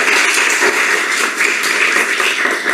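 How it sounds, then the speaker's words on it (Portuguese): Steady audience applause at a comic book launch event on a university campus in Petrópolis, a dense, continuous wash of many hands clapping at an even level throughout. "Salva de palmas para ela"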